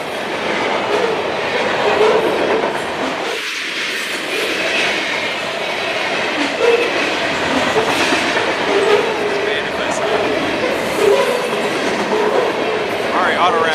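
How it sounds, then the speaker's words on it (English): Auto rack freight train passing close by along the Lake Erie coast in northwestern Pennsylvania, a loud continuous roar of wheels and clattering rail cars throughout with no break. "Alright, auto rack train cleared."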